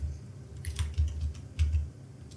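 Typing a word on a computer keyboard makes a quick, soft run of key taps at close range over steady low room hum, with no talking.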